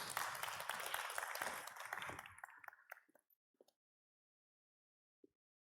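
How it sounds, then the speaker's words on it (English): Applause from a conference audience at an agri-food forum, a dense patter of many hands for about two seconds that thins into a few scattered claps and then fades to silence. "Big applause."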